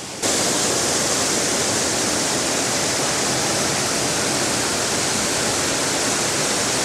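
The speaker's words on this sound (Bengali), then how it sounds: "যখন জলটা বেড়ে যায় তখন ছাড়ে এখান দিয়ে" Released water rushes through the lock gate of the Kangsabati dam, a loud, dense, unbroken roar that starts abruptly and holds steady, close by with no voices.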